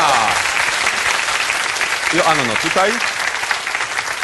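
Sustained audience applause fills a Polish cabaret stage show by Kabaret Paranienormalni, dense and steady throughout, while a voice talks over the clapping near the middle.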